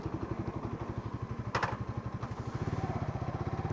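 Motorcycle engine idling in a parking area at a gate in the morning, a steady low chugging pulse that runs the whole time at moderate loudness, with a brief clatter partway through.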